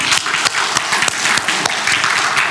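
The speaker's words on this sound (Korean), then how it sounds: "박수 한번 드리세요" A church congregation breaks into brisk applause for a woman married sixty years, a dense burst of clapping close by with a few sharper individual claps standing out.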